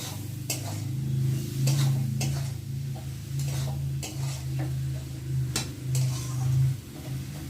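Potatoes and soybean chunks are stirred in plenty of oil in a pan for aloo dum, with crisp, evenly spaced spatula scrapes over a continuous low frying hum.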